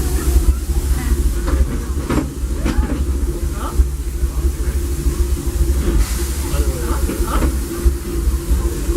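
The Fred Gurley #3 steam locomotive pulls the Disneyland Railroad in a deep, continuous rumble with hissing steam and a few sharper chuffs and clanks rising over it, heard from on board close up.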